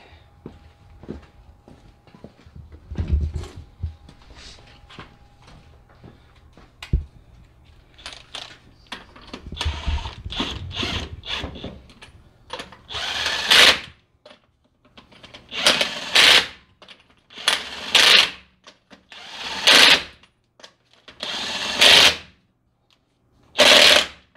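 A ratchet tightening a bolt on a 2022 Nissan Frontier, with scattered faint clicks early on that build into loud, rapid bursts of ratcheting clicks separated by short pauses, close up.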